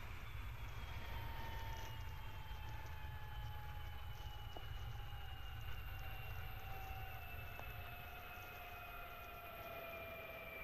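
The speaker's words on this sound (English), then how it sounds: "You can shut down your next engine once your first one has shut off." Boeing 737 engine shutting down in a flight simulator game: a steady, faint whine with tones slowly descending in pitch over a constant low hum, no talking.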